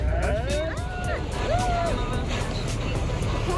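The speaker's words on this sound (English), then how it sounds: "now we're picking up speed towards the Atlantic Ocean" A loud, steady roar of a motorboat engine picking up speed leaving Costa Adeje harbour, Tenerife, toward the Atlantic, with rushing water and voices briefly audible underneath.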